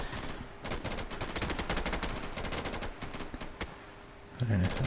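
Gunfire in the video game Insurgency, with rapid automatic bursts and single sharp shots in an irregular rhythm, moderately loud, ending in a brief low thump.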